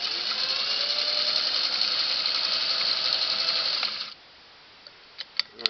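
Singer 301A sewing machine stitching through four layers of fabric, a steady close mechanical whir for about four seconds that stops abruptly, followed by a few small clicks.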